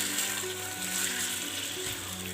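Chicken frying with ginger and garlic in a pan, a steady even sizzle that stays close and constant throughout, with no talking.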